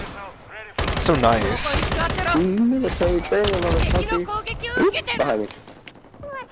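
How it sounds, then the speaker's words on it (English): Gunfire from Modern Warfare III gameplay: rapid bursts of shots with hit-marker and kill effects, heard close and loud under continuous commentary from someone talking over it. "The hit marker and the kill are just such a satisfying sound."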